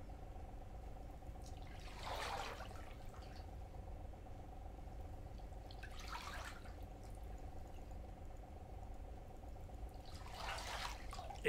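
Foul sewer water in a horror video game sloshes in three slow splashy surges, several seconds apart, over a constant low hum, with no talking.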